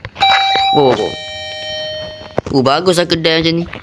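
A shop door entry chime in a Roblox game, like a 7-Eleven, rings out as a bright two-tone electronic ding-dong, with a voice talking over and after it.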